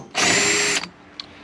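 A power drill whirs in one steady burst of under a second while backing out a T30 taillight bolt, loud and close, followed by a faint click and quiet.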